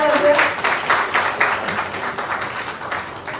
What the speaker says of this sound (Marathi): मकरंद देशपांडे यांच्यासाठी जोरदार टाळ्या वाजवा